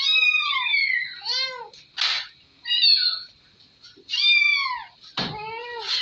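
Recorded cat meows played back from a cat-sound video, a series of loud, drawn-out, wavering meows about every second with short gaps, clear against a quiet background and no talking.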